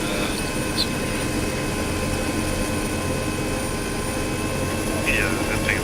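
A helicopter in the video game Arma 3 spools up and lifts off during a Takistan hostage rescue, a loud, steady, dense rotor and engine roar filling the whole clip with faint radio-like chirps over it.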